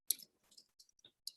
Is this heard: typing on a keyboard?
yes